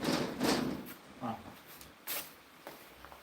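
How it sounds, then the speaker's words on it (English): A door swings and shuts with a few soft scraping and bumping sounds, followed by a sharper thud, all fairly quiet and close with no talking. "I think I'll close the door so that the rain doesn't disturb us much"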